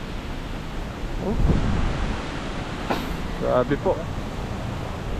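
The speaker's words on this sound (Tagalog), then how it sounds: "Ang lakas po ng hangin." Strong monsoon wind gusting during a typhoon, a broad rushing roar that swells and eases, with people speaking over it.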